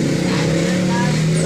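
A Honda Force 1 motorcycle engine idles steadily throughout with a low, even hum, while people talk over it close by.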